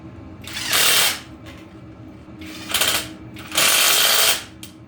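A 50cc SYX Moto dirt bike engine, revived from a trashed state, buzzes in loud high-pitched revving bursts that swell and drop back to a rough idle, with no talking over it.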